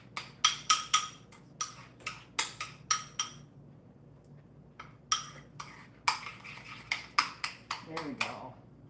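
Spatula scraping and clinking against a microwavable bowl while sky blue buttercream is stirred, a run of sharp close taps and scrapes in bursts with a brief pause midway, under faint background noise.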